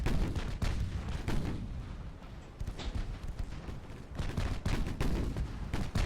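Naval gunfire in the warship game Ultimate Admiral: Dreadnoughts, a dreadnought battling modern cruisers: heavy booming salvos and rumbling blasts repeat over several seconds, loud and dense with no speech.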